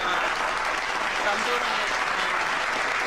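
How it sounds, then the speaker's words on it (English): Enthusiastic clapping and cheering from several people in a radio studio during a talk show, a continuous burst of applause with speech mixed underneath. "With claps, let me give you claps."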